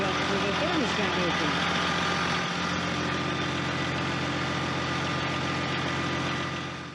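A truck engine idles at a steady low rumble while it warms up toward thermostat opening, with voices talking over it early on before the hum continues alone and then fades out.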